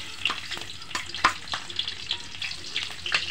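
Garlic sautés in hot oil in a pan with a close, crackling sizzle. Sharp spatula scrapes and clicks are scattered across it, and nobody speaks.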